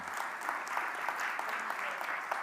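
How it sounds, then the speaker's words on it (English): An audience at a township address claps steadily, a thin, even spatter of applause heard from a distance in a hall. "Yeah, that's right. You can clap."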